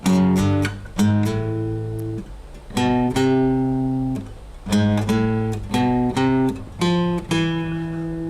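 Guitar picks a riff as clean single notes in a sneaky, halting rhythm of short phrases with pauses, close and moderately loud with no voice.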